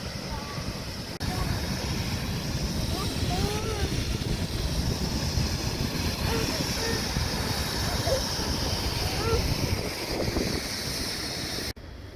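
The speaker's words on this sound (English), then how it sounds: "This would be Nicholson's Rapids." Steady broadband rush of Nicholson's Rapids below the Stone Arch Dam fills the scene, loud and continuous with wind buffeting, heard alone without talk.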